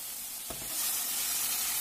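Ingredients are tipped into sautéed aromatics in a hot pan. A brief soft clatter is followed by a swelling, steady sizzle that carries on alone.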